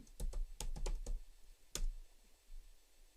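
A computer keyboard is typed on briefly, a quick cluster of sharp key clicks followed by one more tap after a short pause, close and quiet in a still room.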